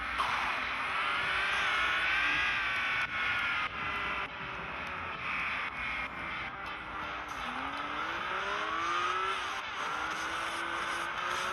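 Racing car engine from a video game running on a PSP emulator, a continuous high buzzing drone with rising and falling revs and gear shifts, steady and loud throughout with no voices.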